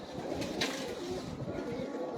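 Pigeons of an old breed coo softly on a rooftop loft, a faint low murmur heard alone at a little distance.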